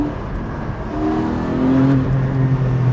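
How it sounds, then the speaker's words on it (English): A Porsche 718 Spyder's engine and exhaust rev up, the tone climbing and growing louder partway through into a strong, sustained note with no talking over it. "the way the exhaust note wakes up at the top is just amazing"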